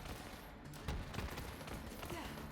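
Hyperion shotgun fire in the video game Borderlands 3 comes as quiet, rapid bursts of gunshots layered within a busy game-action background.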